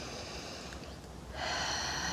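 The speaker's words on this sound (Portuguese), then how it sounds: "faça uma respiração profunda" A slow, deep breath drawn in during a guided prayer and meditation moment, a soft airy rush that swells and grows louder in the second half, with no talking over it.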